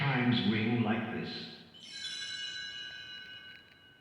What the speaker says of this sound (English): You will know it is time to turn the page when you hear the chimes ring like this.